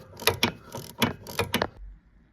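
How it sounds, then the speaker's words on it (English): A torque wrench clicking and ratcheting while tightening a steering shaft coupler on a Kawasaki Mule Pro, several quick metallic ratchet bursts close by, then quiet. "I'll go ahead and put the torque in here for this component as well"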